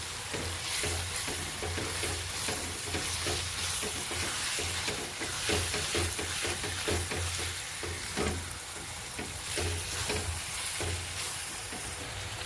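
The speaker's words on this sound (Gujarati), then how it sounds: "હવે ડુંગળી બધી સંતળાઈ જાય ત્યાં સુધી હવે મીડિયમ તાપ ઉપર સંતળવાની." Chopped onions and garlic sauté in oil over medium heat for a fresh turmeric curry: a steady, close sizzle with frequent spatula stirring and scraping throughout, no voices.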